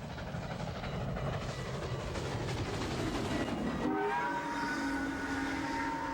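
Steam locomotive 819 speeds across a timber trestle, a steady heavy rumble of wheels and clatter, then a long multi-tone whistle blast sounds near the end.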